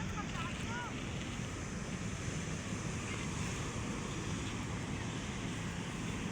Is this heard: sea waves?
yes